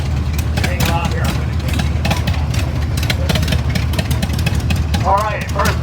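A 1924 John Deere Model D tractor idles loudly in a tractor parade, its low, steady engine rumble running throughout with someone talking over it on a loudspeaker.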